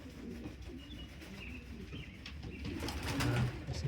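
Pigeons coo softly in a loft, low throaty calls repeating over faint background rustle and a brief flutter, growing slightly louder toward the end, with no voices.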